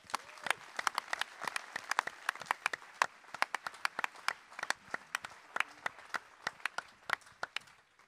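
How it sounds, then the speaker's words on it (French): Sparse audience applause for a jury member at a national eloquence contest, distinct individual claps popping irregularly, fairly close and crisp, sustained for several seconds. "Je vous prie de faire un show d'applaudissements pour le membre du jury"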